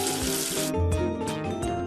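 Water from a tap rinses soap away in a kids' education app game, a steady hissing gush that cuts off partway, then gives way to soft chiming effects.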